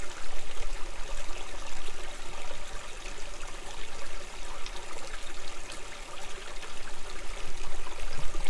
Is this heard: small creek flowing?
yes